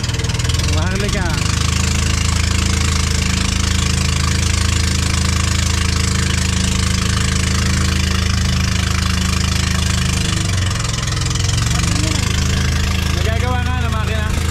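A boat engine runs loud and steady throughout, with a continuous droning, knocking rumble close by.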